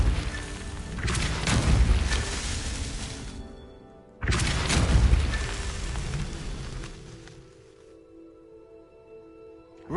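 Two booming magical blasts of the Depulso spell in the video game Hogwarts Legacy, each a loud burst that fades into a rumbling tail, the second following about three seconds after the first.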